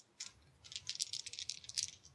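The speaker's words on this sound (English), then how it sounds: "Actual dice." Physical dice rattle and clatter across a tabletop during a Pathfinder tabletop game, a brief quiet tumbling burst of small clicks lasting about two seconds with no talking.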